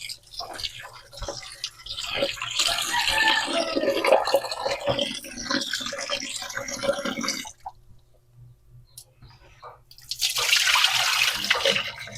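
Food is washed under running tap water, a steady close splashing stream that stops briefly midway and then gushes back on, with faint voices in the background.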